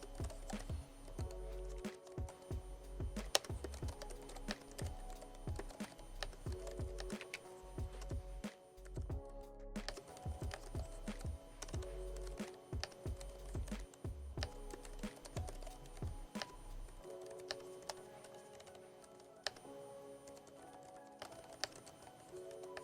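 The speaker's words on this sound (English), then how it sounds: "if you want to hear the volume of the keyboard when typing on it, let's do a quick little typing test." Quick, steady keystrokes on a ProtoArc EKM01 ergonomic split keyboard, soft and close-miked, with irregular bursts of clicky taps and a few louder key thumps, sounding alone throughout.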